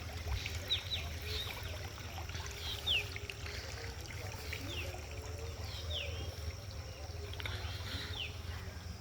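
Quiet, steady trickling of water flowing into a farm field runs continuously while a few birds chirp faintly in the background.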